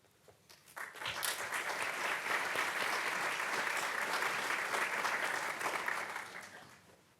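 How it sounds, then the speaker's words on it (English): Audience applause for a college provost at a Geisinger College Day gathering, rising suddenly after a second into sustained, dense clapping from a large crowd, holding steady for about five seconds before tapering off. "I used to be able to beat the applause"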